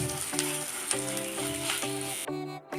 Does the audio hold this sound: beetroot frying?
yes